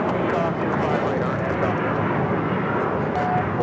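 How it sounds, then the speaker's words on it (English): An airliner takes off on the south side of Los Angeles International Airport, a broad steady jet-engine roar at a moderate distance, holding constant throughout with faint voices beneath. "Next takeoff here on the south side."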